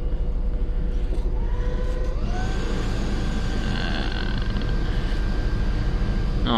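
A truck engine runs steadily as the truck pulls into a garage during a cold Canadian winter. The low rumble is continuous and fairly close, with some rising tonal whine partway through.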